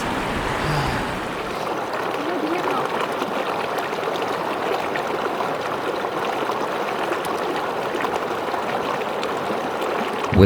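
A holy-water stream at the base of Mount Kailash rushes loudly and steadily close by, a continuous broadband wash of flowing water with faint wind.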